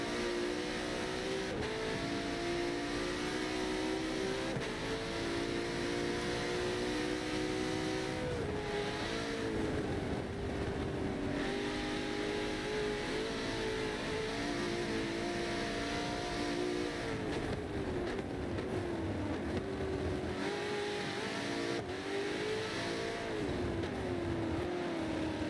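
A race car engine in a racing game at Silverstone during a 12-hour endurance event, a steady droning whine that climbs and dips in pitch as the car accelerates and shifts, heard alone with no talk.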